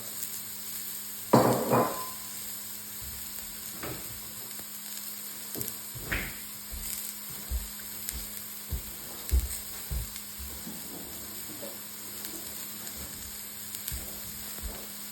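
Onions and peppers fry together in a pan, a faint steady sizzle with a louder burst early on and intermittent knocks of a wooden spoon as they are stirred.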